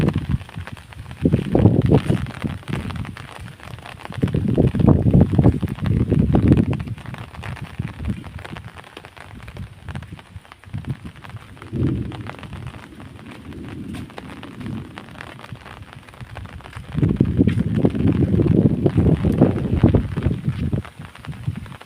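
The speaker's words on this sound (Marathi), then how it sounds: "पण वारा भरपूर आहे" Strong wind gusts in rolling surges during a Konkan monsoon evening, low buffeting roars that swell and ease several times, close and loud.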